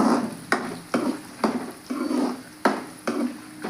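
Cumin seeds frying in a pan with coriander seeds for mint chutney, stirred in repeated scraping strokes about every half second over a soft sizzle, close and clear with no talking.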